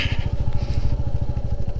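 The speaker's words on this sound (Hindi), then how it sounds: "जहाँ तक लेके जा सकते हैं वहाँ तक अपनी बाइक को लेके जाएंगे" Motorcycle ridden off-road through sand near Pangong Lake in Ladakh, its engine chugging in a fast, steady low-pitched pulse that stays loud and close for the whole stretch.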